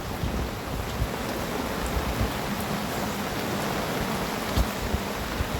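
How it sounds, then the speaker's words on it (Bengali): Heavy monsoon rain falls steadily outdoors by a pigeon loft, a dense even hiss of drops with occasional louder splashes, continuous and unbroken throughout with no voices. "বৃষ্টি অলরেডি পড়তেছে প্রচুর,"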